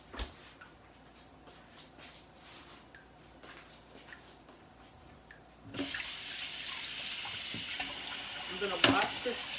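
Tap water runs into a kitchen sink to rinse out a pan that held noodles, a steady broadband rush that starts partway through and continues loudly to the end, with faint clinks near the close.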